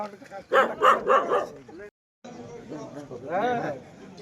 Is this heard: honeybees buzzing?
no